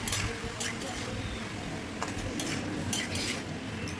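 Bottle gourd pieces with cumin, salt and turmeric are stirred in hot oil in a kadai, giving a steady scraping and clinking of a spoon against metal over a soft, continuous background sizzle.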